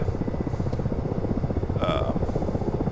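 Rotor drone of a Ka-50 Black Shark helicopter hovering in a flight simulator game, a steady low throbbing chop that runs throughout with a brief higher whine partway, heard under someone talking.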